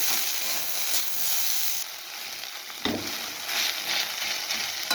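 Spiny gourd (kakrol) frying in a pan with a broad hissing sizzle, easing briefly then swelling again with a scraping stir, close by and without speech.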